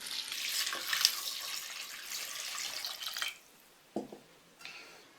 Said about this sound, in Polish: zalewam zimną wodą